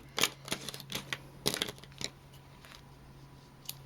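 Scissors snip off loose threads from a sewn mini tote bag, giving a few close, sharp clicks that come in small clusters with pauses, then thin out toward the end of a quiet room.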